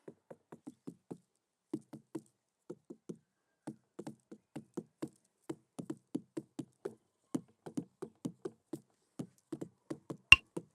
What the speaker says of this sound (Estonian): soovitan poes olles kõik arbuusid ilusti läbi koputada